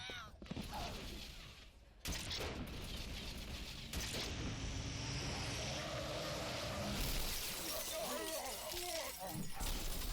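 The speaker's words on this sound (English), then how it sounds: "A car just came out of nowhere! Smashed all the brutes!" A car smashes into a group of Brute enemies in Halo 3 ODST, a loud sudden crunching impact with shattering debris and mechanical clatter, followed by sustained rumbling noise while voices speak.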